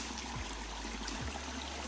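A small stream of water flowing through a hillside gravity-fed water catchment, a steady soft trickle and wash that stays faint and continuous, with no voices.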